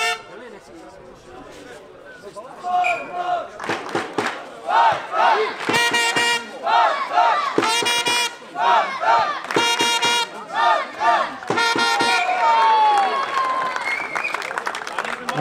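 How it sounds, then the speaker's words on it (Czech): Home fans cheer and chant rhythmically at an extraliga handball match between Spartak Čelákovice and Start Praha, a loud crowd roaring in repeated bursts with shouts and horn toots throughout. "že fandění domácích fanoušků je jako balzám pro hráče"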